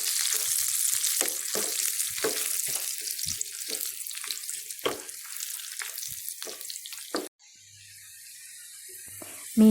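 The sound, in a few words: dried chillies frying in tempering oil for dhal curry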